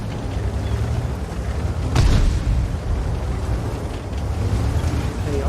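A single heavy cannon shot booms from a WZ-111 Model 5A tank in World of Tanks, one sharp blast over a constant low engine rumble.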